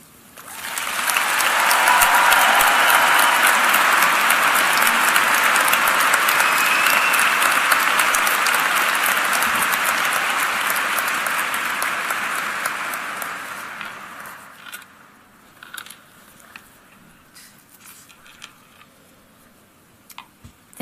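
A commencement audience applauds a speech at a graduation ceremony, a dense, loud sustained clapping for about fourteen seconds before it thins into scattered claps and fades out.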